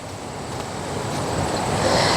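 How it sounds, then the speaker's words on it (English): Wind buffets a microphone with a broad rushing roar that builds slightly over a couple of seconds, no voices. "It's windy."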